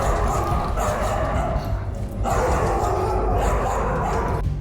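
Kalani, an aggressive dog, barks loudly and repeatedly up close in rapid bursts, with two brief pauses between volleys.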